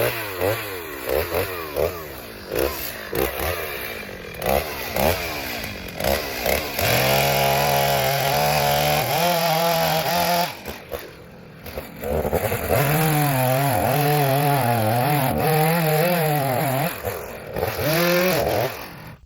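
An IMOUM mini chainsaw cuts a tree near a tiny house, its motor revving up and down in repeated loud bursts. Sustained, straining cuts build through the second half.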